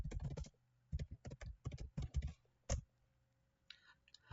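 Keys clatter on a computer keyboard in short uneven bursts of quick, close clicks, with a few isolated taps near the end in an otherwise quiet room.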